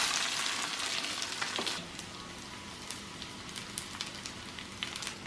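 Jeera pulao rice being stirred in a hot pan, a close sizzle with scraping spoon strokes that is louder for the first two seconds and then settles into a softer, steady crackle with occasional ticks.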